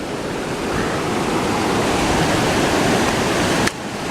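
A creek on a spring hiking trail in Virginia rushes in a steady, loud, close wash of flowing water that drops off abruptly near the end.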